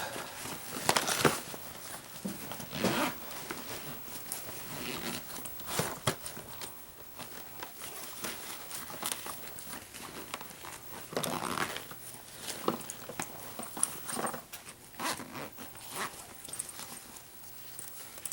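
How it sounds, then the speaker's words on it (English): A backpack zipper is drawn shut in a few brief scratchy bursts, close and quiet, with soft handling rustles and pauses between them. "I'm going to zip this up."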